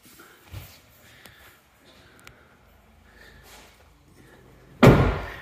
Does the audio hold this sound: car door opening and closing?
yes